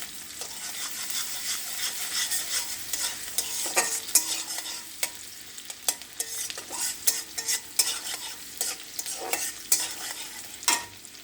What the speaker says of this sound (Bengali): এটা ডাইরেক্টলি আমি তেলের মধ্যে এখন এর মধ্যে দিয়ে দিব পেঁয়াজের সাথে